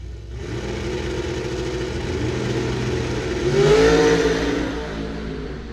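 Drag racing cars accelerate down a dragway at a bracket and index race, heard as a steady distant engine drone that swells into a louder rising whine near the end.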